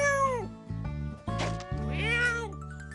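A cartoon cat meows several times in a row, loud and close, with drawn-out, wailing calls that rise and fall, set against quiet musical background.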